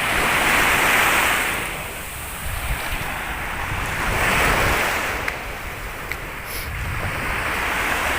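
Sea waves wash onto the beach at Bang Saen in the morning, a steady loud surf roar swelling and easing in slow cycles with wind buffeting the microphone and no voices.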